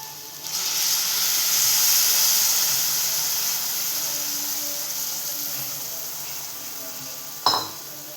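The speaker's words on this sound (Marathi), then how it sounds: "आता आपण त्यात टाकणार आहोत गरम पाणी थोडं." Hot water poured into a pan of frying dal and onion sets off a loud, steady hiss of steam and sizzling that slowly fades, ending with a brief clank of utensils.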